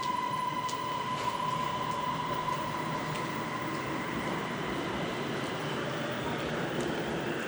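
An electric underground metro train at Bang Sue runs with a steady, even rumble and hiss, a faint high whine fading early on, with no speech.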